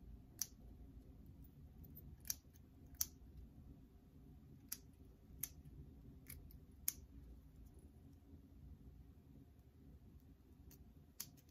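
Scissors trimming excess lace from a wig, faint sharp snips spaced irregularly over a low steady background hum, close but quiet with no talking.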